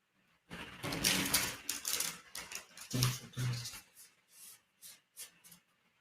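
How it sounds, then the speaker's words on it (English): Tarot cards being shuffled on a table, with quick papery riffles and soft rubbing bursts in an uneven rhythm, close and moderately quiet, with brief gaps between shuffles. "Yes, we should shuffle some."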